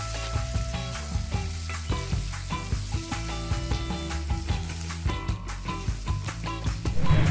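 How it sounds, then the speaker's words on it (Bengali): Chopped onions fry in hot mustard oil in a kadai, sizzling loudly beneath music with a steady beat, with stirring scrapes now and then. "সরষের তেলটা গরম হয়ে গেলে পেঁয়াজ কুচি দিয়ে ভালোভাবে ভেজে নিচ্ছি।"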